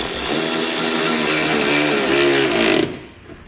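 A power tool drives a bolt into a pickup truck tailgate bracket with a loud, rapid buzzing whir that runs steadily for nearly three seconds and then stops abruptly, leaving quiet. No voices.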